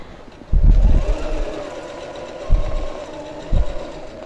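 A sewing machine stitches a quilt leaf shape along a template with a steady whirring hum, and three low thumping bursts of faster stitching rise over it near the start, middle and end.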